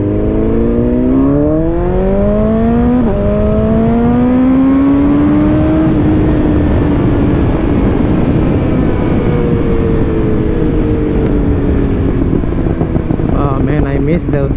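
Motorbikes on a wide Texas road, engines rising in pitch as they accelerate and sweep past, then fading into a broad rushing roar, close and loud.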